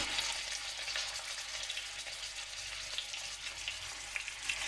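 Rolled pork shoulder roulades fry in hot olive oil in a roasting pan, giving a steady, close, even sizzle with faint crackles throughout and no voices.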